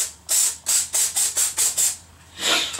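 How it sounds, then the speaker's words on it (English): Seven short bursts of aerosol spray cleaning an AR-15 magazine in a quick even rhythm, close and loud, followed after a pause by one longer hiss. "I just like to give them a quick spray down."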